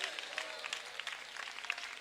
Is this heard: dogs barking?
no